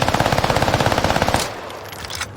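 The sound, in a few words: assault rifle automatic gunfire in Call of Duty Warzone Caldera video game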